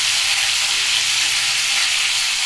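Potatoes and green chillies are dropped into hot oil in a pan, giving a loud, steady, close sizzle with a bright frying hiss throughout and no talk.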